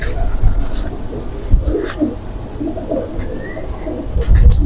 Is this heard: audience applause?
no